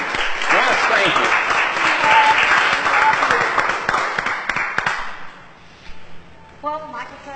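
A live breakfast-show audience at a bakery and cafe applauding a musician, sustained crowded clapping that fades out after about five seconds, followed by a voice speaking.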